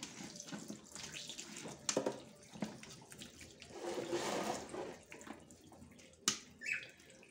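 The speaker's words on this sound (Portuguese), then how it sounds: "Acrescenta a água." Water poured into a cooking pot of corn kernels for boiling canjica, a splashing, uneven pour with a few louder surges and clatters, fairly close and quiet, with no talk.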